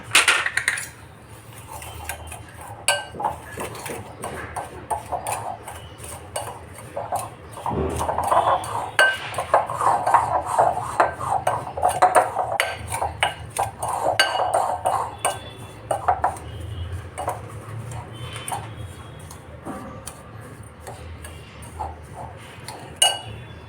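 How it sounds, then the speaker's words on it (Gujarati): Oil and powdered sugar are mixed in a bowl for a vanilla cake, with repeated close clinks and scrapes of the utensil against the bowl in an uneven rhythm. "હવે આપણે આમાં તેલ નાખી દઈશું, અને આમાં જે આપણે આ 3/4 કપ પાવડર શુગર લીધું છે એને આપણે મિક્સ કરી દઈશું"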